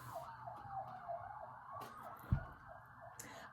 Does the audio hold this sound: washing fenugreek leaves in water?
no